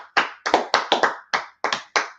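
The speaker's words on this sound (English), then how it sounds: "let's clap it up for that sister right there" A live audience claps for a sister at a gathering: eight sharp, closely spaced bursts of applause, each one loud and quickly fading, with no talk over it.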